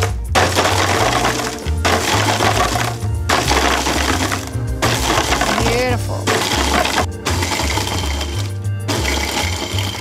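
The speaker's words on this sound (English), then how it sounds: "So we'll see it making ice into snow." Breville Hemisphere die-cast blender crushing ice into powdery snow, a loud, dense grinding roar with rattling chunks, pulsed in several bursts separated by brief dips.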